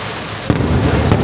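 A fireworks display by Steffes Ollig Feuerwerke at the Philippine International Pyromusic competition gives two loud booming bursts about half a second apart over a continuous crackling roar, close and powerful.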